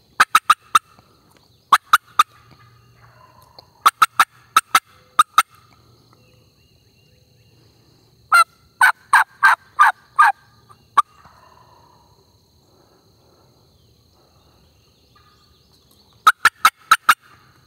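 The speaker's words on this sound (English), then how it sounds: "Turkey's actually getting closer too." A wild turkey in the South Alabama woods on the opening day of the season gobbles in five separate bursts of rapid, rattling calls. The bursts are spaced by long quiet stretches and stand out loud and clear against faint background ambience.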